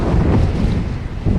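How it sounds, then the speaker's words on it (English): Wind buffets an outdoor microphone in a continuous low, rough rumble that roars steadily for the whole moment, with gusts swelling near the start and again at the end, and no voice over it. "let me get you out of the wind a little."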